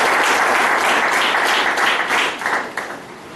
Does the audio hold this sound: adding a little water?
no